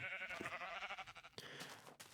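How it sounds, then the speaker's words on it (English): A sheep in the overhauled Minecraft Infdev+ bleats twice, a wavering nasal call followed by a shorter second cry, close and clear with no talking. "Okay, there's some more sheep."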